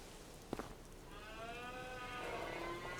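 Cattle moo in Farming Simulator 25, with adult cows and calves nearby; a long, drawn-out moo swells up and holds for a couple of seconds over a quiet ambient farmyard bed.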